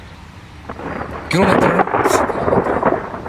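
Thunder rumbling during a summer thunderstorm in Moravia, a rolling low boom that swells midway and lingers over faint rain, with a person speaking briefly.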